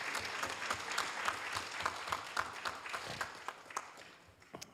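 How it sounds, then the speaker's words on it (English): A round of applause at a city council meeting, many people clapping together in a dense, steady patter that fades slightly toward the end, with no talking. "let's give all women a big round of applause"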